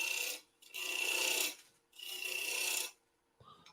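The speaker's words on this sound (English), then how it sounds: "I'm turning about 1800 RPM here." A wood lathe spins at about 1800 RPM while a turning tool cuts the wood, giving two long, loud rasping scrapes with short quiet gaps between them. A softer scrape follows at the end.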